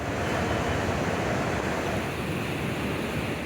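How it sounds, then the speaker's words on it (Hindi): Churning waves of the flooded Godavari river roar in a loud, steady, broadband rush, continuous and close, with no voices. "गोदावरी की ये लहरें बता रही हैं कि खतरा कितना बड़ा है।"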